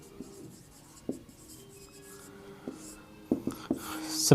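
Marker or chalk writing on a board during a math lesson, with faint, scattered scratchy strokes and light taps that grow a little busier toward the end, under a quiet room hum.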